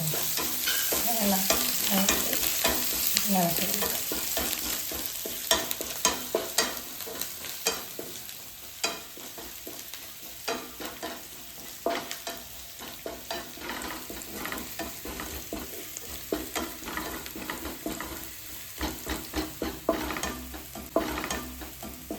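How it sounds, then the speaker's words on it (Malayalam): Garlic and ginger sizzling in hot oil with already popped mustard seeds, a steady frying hiss broken by frequent stirring scrapes and clicks of a spoon against the pan, no voices. "കടുക് പൊട്ടി ഇനി ഇതിലേക്ക് നമുക്ക് വെളുത്തുള്ളി ഇഞ്ചി അരിഞ്ഞിടാം"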